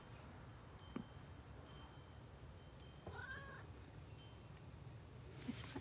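A house cat gives a short meow with a rising then falling pitch, set against a steady low background hum. The sound is soft and fairly close.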